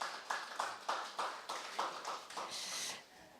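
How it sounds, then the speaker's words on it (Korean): A small group claps at a pet etiquette agreement signing ceremony, a few soft rhythmic waves of handclaps, somewhat distant and modest in volume, fading out near the end. "박수 한번 보내주시면 고맙겠습니다"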